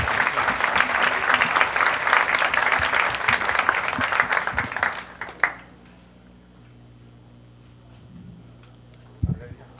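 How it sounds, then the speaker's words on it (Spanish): Audience applause at a conference on the electoral system welcomes a speaker, a dense, loud round of clapping that stops abruptly about halfway through and leaves quiet room tone with a few faint knocks. "Damos un fuerte aplauso entonces al licenciado Juan Carlos Villarreal Martínez."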